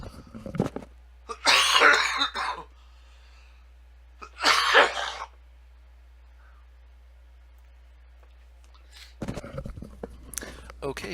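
Two loud, close coughs about three seconds apart, each a harsh burst lasting under a second, separated by near silence, followed by faint rustling at the end.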